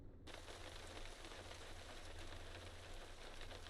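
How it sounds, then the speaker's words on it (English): Steady rain falls in Euro Truck Simulator 2, a dense, even hiss of drops on surfaces that starts abruptly and runs unbroken, with a low rumble underneath and no talking. "We've finally got some rain."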